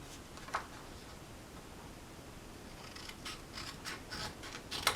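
Scissors cutting paper for a planner cover, a few faint snips and soft crisp rustles, quicker toward the end, over a quiet room.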